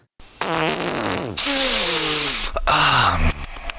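Comedic fart sound effect: a loud, wet, pitch-bending blurt followed by a longer sputtering stretch and a final short burst, with no talking over it.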